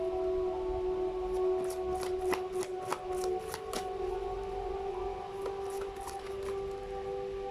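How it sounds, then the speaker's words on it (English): A deck of cards being shuffled during a pick-a-card reading, heard as quiet clusters of rapid riffling flicks in short bursts over a steady background tone. "You saw me shuffle."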